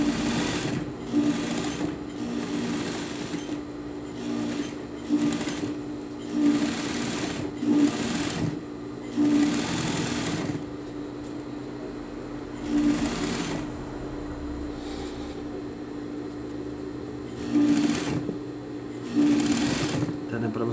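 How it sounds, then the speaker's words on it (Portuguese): A sewing machine runs in steady loud bursts, hemming knit fabric without a coverstitch machine, stitching rhythmically and pausing briefly between runs while someone talks over it. "para que possa costurar a malha e possa estar costurando o oxford, o jeans"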